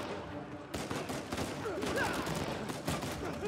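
Assault rifle fire in Uncharted 4, a dense rattle of shots running through the whole stretch with a brief quieter lead-in, mixed with in-game effects and faint voices.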